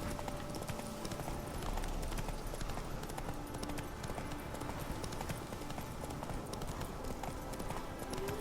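Horse hooves clip-clopping steadily while riding Roach through countryside in The Witcher 3, a continuous rhythmic trot over a constant ambient bed, fairly close.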